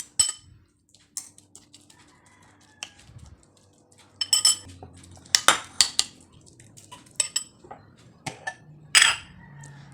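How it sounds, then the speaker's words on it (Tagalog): Metal spoon mashing food in a bowl, scattered clinks and scrapes that start sparse and quiet, then grow louder and busier into repeated close knocks against the bowl, with no talk. "Tapos dugmo ko na to sa kutsara."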